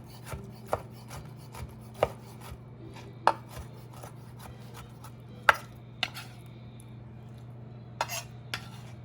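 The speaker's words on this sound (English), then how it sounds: "So I'm just gonna cut these 2 peppers up." Knife chopping two bell peppers on a cutting board for a tomato salad, sharp irregular knocks with pauses between strokes over a steady low room hum.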